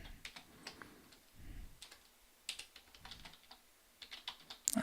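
Code typed on a computer keyboard: faint, scattered keystroke clicks in short irregular bursts, close by and quiet, with no talking.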